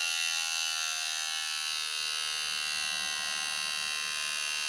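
A small cordless hair trimmer running on a weak battery buzzes steadily and close, a thin high-pitched whine with no pauses or voices.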